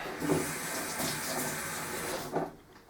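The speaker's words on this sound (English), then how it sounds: "hang on while I rinse my fingers" Fingers are rinsed under a running kitchen tap, a steady close splash and hiss of water lasting a few seconds before it tapers off.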